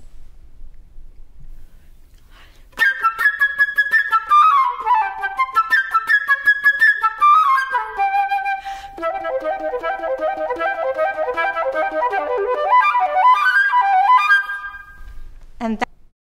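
A flute plays a fast, technical showpiece in a concert band setting, with rapid runs and flurries of notes after a quiet start, loud and close, ending with a brief low note.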